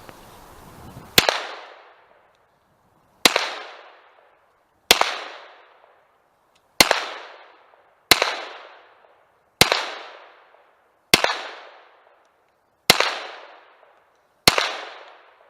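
Artillery Luger pistol with a snail drum magazine firing single shots outdoors, nine sharp loud cracks spaced one to two seconds apart, each trailing into a short decaying echo, with no voices.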